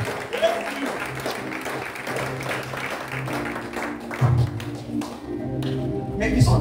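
A church congregation claps and taps in a loose, scattered round of applause to acclaim the Lord, mixed with a preacher's voice and a sustained low musical drone beneath.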